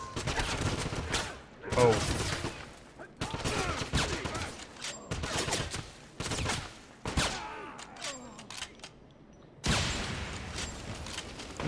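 Repeated gunfire from a one-shot-kill weapon in the shooter game Wolfenstein, sharp loud bursts and volleys spread across the scene with game sound effects between, and a man briefly exclaiming.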